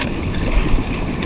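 Heavy sea waves and wind wash steadily around a small fishing boat out on rough water, a loud, continuous rushing roar with no voices.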